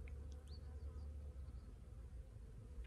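Bees buzzing at a homestead in Central Portugal, a faint steady drone filling the air with brief higher whines as individual insects pass close.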